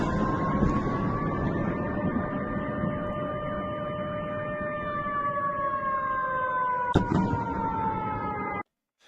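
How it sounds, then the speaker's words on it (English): Air raid sirens wailing across Belgrade, several steady sustained tones holding for about nine seconds with a slight pitch drift, a brief sharp click near the end before the sound cuts off. "here's the clip of the air raid sirens that are currently sounding inside of Belgrade as well at the moment"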